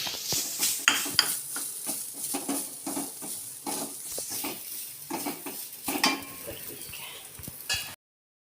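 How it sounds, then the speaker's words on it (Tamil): Grated coconut roasting in hot ghee in a kadai, the spoon scraping and clinking against the metal in a steady stirring rhythm over a soft sizzle, close and without talk. "இப்போ ஒரு கப்பு தேங்காயில் போட்டு வறுத்துக்கிடுவோம்"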